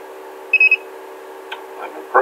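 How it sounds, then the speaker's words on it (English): A DL Windows electronic door lock in program mode gives a short burst of three quick high electronic chirps, followed by faint clicks and a final brief chirp over a steady low hum. "it's going to chirp at you."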